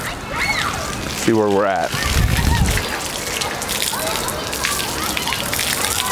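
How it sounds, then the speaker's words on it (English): Water sprayed onto a car panel during an automatic car wash test, a steady hiss of spray and splashing throughout, with someone talking over it. "So let's bring the water back over here,"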